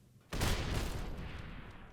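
Video game TNT and mine blast launching a bowling ball: a sudden loud explosion after a brief quiet, then a long rumbling, crackling decay.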